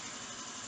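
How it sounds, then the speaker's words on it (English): An air compressor runs steadily on a Vevor air jack setup while a car corner is being worked on, a continuous close, even hum with no talk. "That time the compressor turned on."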